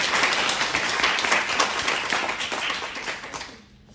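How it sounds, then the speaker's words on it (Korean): A church congregation applauds together during a Sunday worship service after a hymn, with dense, steady clapping throughout that fades out at the end. "너무 우리 한번 박수 한번"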